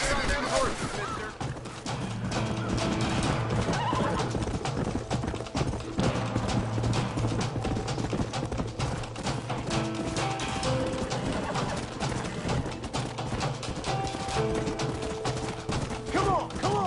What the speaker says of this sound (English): Don't be letting them get on them horses, mister